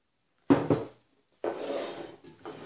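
Two quick clanks of a metal saucepan, then a short, granular hiss of sugar pouring in for homemade caramel, followed by a brief second trickle.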